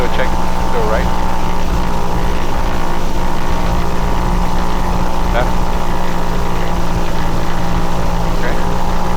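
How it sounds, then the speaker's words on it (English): A Cessna 172S piston engine holds a steady, loud propeller drone through a magneto check run-up, with a voice speaking briefly over the constant engine noise. "Alright, let's do a magneto check."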